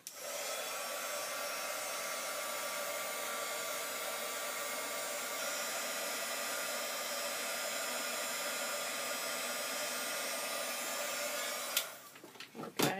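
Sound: embossing heat gun running

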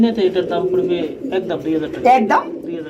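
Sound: yellow Sirazi pigeons cooing

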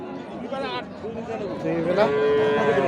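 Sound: dairy cow mooing at cattle market

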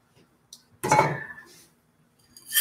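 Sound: washed rice being poured into a pot

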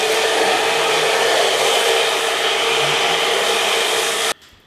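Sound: hair dryer blowing cold air to set hairstyle

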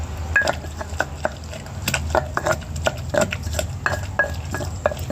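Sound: pestle pounding fresh chilies and tomato in a mortar

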